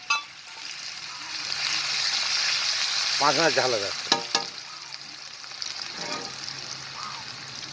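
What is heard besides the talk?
onions frying in burnt sugar for fish curry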